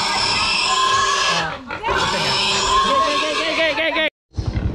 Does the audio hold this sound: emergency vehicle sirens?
no